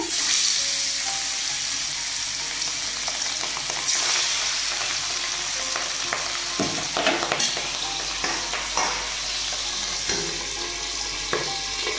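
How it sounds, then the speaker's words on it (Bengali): Boal fish frying in a shallow layer of hot oil, a steady close sizzle with sharp crackles and spits throughout, no voices. "তেল গরম হয়ে গেছে, আমি মাছ দিয়ে দিচ্ছি।"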